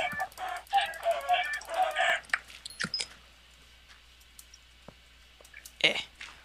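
Chicken clucking in Minecraft, several short nasal clucks in a quick burst early on, then one more cluck later, close and clear over quiet background with scattered small clicks.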